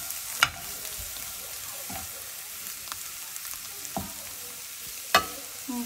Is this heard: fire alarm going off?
no